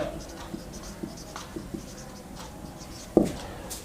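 Chalk or marker scratching on a classroom board during an accounting lesson, a few soft scattered strokes with one sharper tap near the end, close and quiet with no talk.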